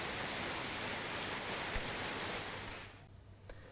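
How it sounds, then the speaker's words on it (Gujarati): Heavy downpour in Modasa, Aravalli, with water flooding village roads, makes a dense, steady roaring wash that fills the sound before easing and thinning near the end. "હજુ પણ ત્યાં વરસાદ ચાલુ છે"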